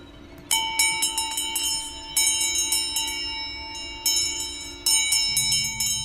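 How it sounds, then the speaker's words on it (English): A dinner bell rings in the Neverwinter Nights 2 video game: several bursts of quick, bright metallic strikes, each group trailing off before the next begins, loud and clear with no speech over it. "Is that the dinner bell?"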